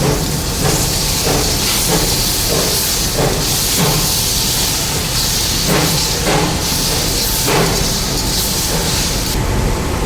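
Ten chopped tomatoes sizzle loudly in a pan with sautéing onions for roasted-ground chicken masala, a steady close hiss with periodic bursts of crackle and spatter throughout, no talking.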